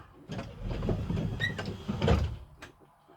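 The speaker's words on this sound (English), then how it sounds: "Close the door." A truck cab door swings shut during a pretrip inspection, a single muffled thud with some rattling and cab noise around it.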